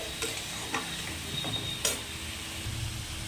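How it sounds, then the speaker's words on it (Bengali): Ash gourd cooking in a pan is stirred with a few light scrapes and taps over a soft, steady sizzle, quiet and close with no talking. "10 মিনিট পরে ফিরে এসে আমি চাল কুমড়োটাকে আর একটু নাড়াচাড়া করে দিচ্ছি"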